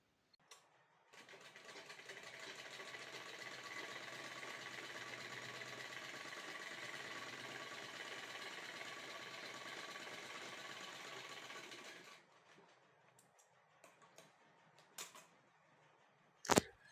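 Sewing machine stitching a 3-inch strip onto main blouse fabric, running steadily for about eleven seconds before stopping, followed by a few light clicks and fabric handling sounds.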